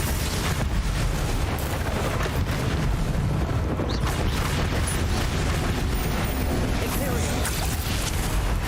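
Bombarda and Confringo spells explode during a troll fight in the video game Hogwarts Legacy: a dense, continuous roar of loud booms and blasts that never lets up, with voices mixed in.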